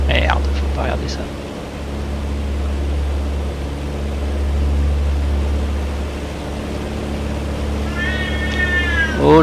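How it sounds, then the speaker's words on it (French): A cat aboard a PA28 light aircraft in flight meows a few times at the start and again near the end, over a loud, steady drone of engine and cabin noise. "Oh le chat là, ça suffit."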